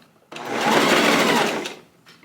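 A sewing machine runs in one steady burst of about a second and a half, stitching the collar seam on a cardigan, loud and close, then stops with a faint click afterward.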